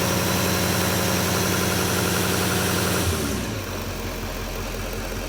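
An LML Duramax diesel engine runs with a loud, steady mechanical drone, then drops back to idle partway through, settling into a lower, rougher rhythmic chug.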